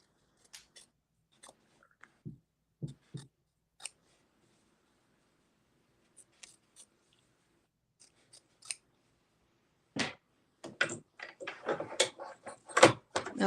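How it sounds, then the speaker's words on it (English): Small hoop scissors snipping quilt fabric in sparse single cuts at first, then a quicker flurry of crisp snips near the end, close and alone. "I'll trim this up really quick with the hoop scissors mini"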